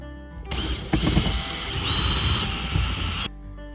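Power driver whirring as it backs out screws from the glove box of a Nissan Kicks, a steady mechanical buzz with a brief rising whine, close and loud for about three seconds, then stopping.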